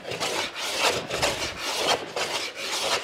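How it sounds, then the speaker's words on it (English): A sharp hand plane shaves fine curls off the top of old wooden furniture being up-cycled into a whiskey and wine rack, giving repeated rasping strokes in a steady rhythm, close and fairly loud with no talk. "I'm going to hand plane everything to get it back to a nice surface"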